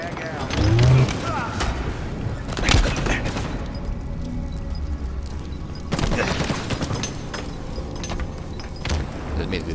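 A frag grenade lands and explodes amid gunfire in a Halo Infinite ranked multiplayer match, with loud booms and bursts of shots scattered across the stretch and busy game noise underneath.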